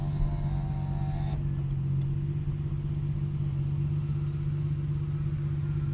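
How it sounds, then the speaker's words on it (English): A 1999 Nissan Skyline R34 GT-R cruises gently in sixth gear with the windows down. A steady, low engine drone and road rumble hold even throughout, with no talking. "Do some casual driving here with the windows down."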